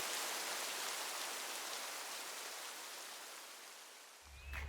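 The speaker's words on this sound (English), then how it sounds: "because it's all rainy and overcast and the summits are all in fog" Steady rain falls outdoors on an overcast, foggy day near the White Mountains, a broad even hiss that fades slightly before a brief low thump and rustle at the very end.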